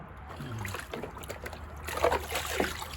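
Water runs and trickles steadily over a pond filter being rinsed of algae and debris outdoors, with soft splashing that swells in a few louder bursts near the end.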